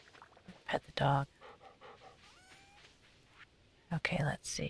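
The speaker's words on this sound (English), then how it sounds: "Dog." A dog pants in Stardew Valley 1.6 with a quick, soft, rhythmic run of breathy puffs in the middle. Louder bursts of a person talking come before and after it.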